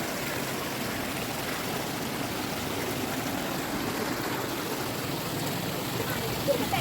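Large stream flowing, a steady broadband rush of water heard close and constant throughout, with no clear voices.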